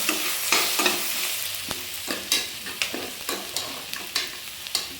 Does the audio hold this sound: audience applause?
no